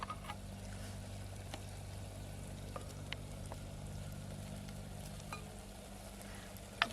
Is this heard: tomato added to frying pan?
yes